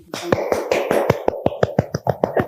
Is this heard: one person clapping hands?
yes